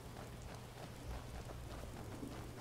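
Rain falling in the video game Skyrim, a soft continuous hiss of rainfall with faint low rumbling beneath, steady and quiet for the whole moment.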